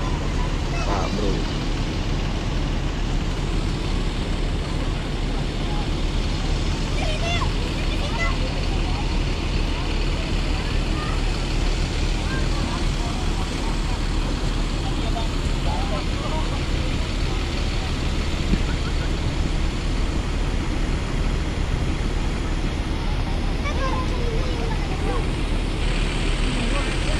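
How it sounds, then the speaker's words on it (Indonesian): Busy Poris bus terminal, where intercity buses idle and steady traffic rumbles on all sides, forming a constant dense roadway hum while people talk nearby. "Ini cukup ramai di terminal Poris."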